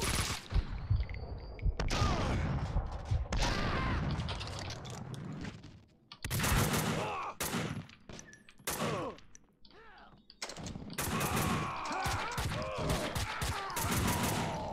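Gunfire in Max Payne 2 on Dead on Arrival difficulty: dense bursts of rapid shots and fusillades in clusters, broken by brief pauses, loud and close throughout.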